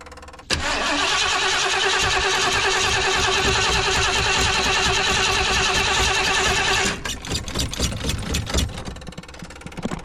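A pump on a toy hauler that had sat unused for ten years and was leaking fuel starts abruptly with a loud, steady, close whirring drone, then falls to a rougher clattering run after about seven seconds.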